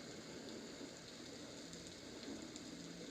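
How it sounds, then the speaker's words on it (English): A Homedics SoundSpa white noise machine plays its thunder setting, a quiet, continuous rain-like hiss with a low rumble underneath, steady and unbroken with no talking. "Okay, so this is Thunder."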